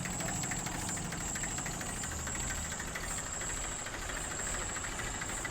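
A 1995 Massey Ferguson 35 tractor in good condition idles steadily nearby, a continuous rumbling diesel note with a faint rhythmic knock and no pauses.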